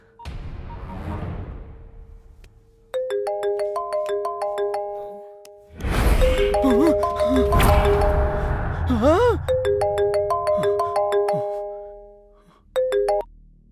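A phone in a horror thriller sounds a melodic ding-dong ringtone in repeated bursts of bright stepped tones, with dramatic music swelling between the rings.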